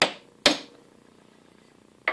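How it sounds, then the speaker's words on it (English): A piece of metal strikes a block of wood held against an Acme screw during axle work on a 1967 Airstream Caravelle. Three sharp, close knocks ring out: two in quick succession, a pause, then a third. "I'm going to put this piece of wood up against my Acme screw and then strike it with this piece of metal."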